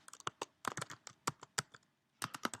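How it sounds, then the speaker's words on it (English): Quick bursts of typing on a computer keyboard while entering a page title suffix, sharp close key clicks in irregular runs with a short pause before a final flurry; no talking. "I am going to add 1 space, then straight line going up, then another space, and I'm going to write Katie's"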